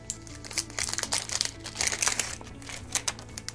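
Plastic pen packaging being torn open along a perforated line, heard as close, quiet crinkling and crackling in quick irregular bursts, with no voices.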